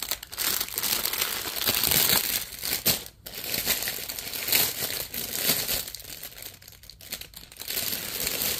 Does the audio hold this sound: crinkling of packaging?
yes